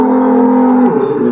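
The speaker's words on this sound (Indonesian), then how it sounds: "Ini dia sapi unik dari kandang pedalaman" A large cow in a rural cattle pen lets out a single long, loud moo, its low tone held steady and then dropping near the end, with no talking.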